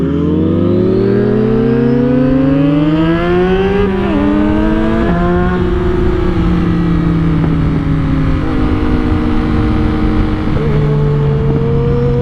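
A 2022 Yamaha MT-09 motorcycle with a tuned ECU accelerates hard under throttle, its loud engine note climbing steadily through the gears with brief dips at each shift, heard close up from the rider's position.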